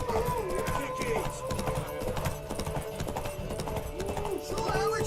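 A horse gallops in The Witcher 3. Its rapid, rhythmic hoofbeats run steadily through the whole stretch, layered with the game's background music and ambience.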